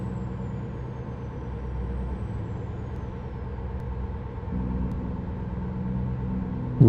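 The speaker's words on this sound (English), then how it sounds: "A little bit of Jake braking." A truck engine-brakes in American Truck Simulator, giving a steady, low, throbbing drone that drops to a deeper tone partway through, with no talking.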